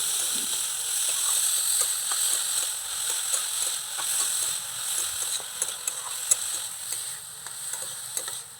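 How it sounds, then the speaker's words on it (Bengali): Grated cauliflower fries in a pan, a loud, close, continuous sizzle broken by repeated scraping and clicking strokes as it is stirred and mixed, with no voices. "এই সময় আমি দিয়ে দেব গ্রেট করে রাখা ফুলকপিটা নাড়িয়ে মিশিয়ে নেব"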